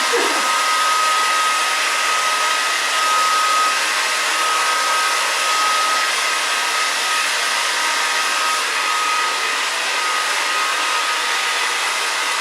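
A hair dryer blow-drying freshly cut medium-length hair after a lob haircut blasts a loud, constant whoosh with a steady motor whine, running alone and close without pause.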